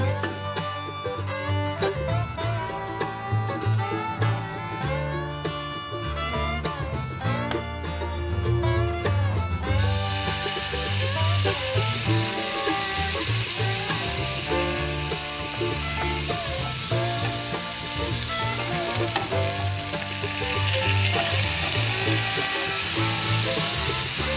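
Steady sizzling of Adana kebab frying in a hot pan on low heat, continuous and close, with music playing throughout.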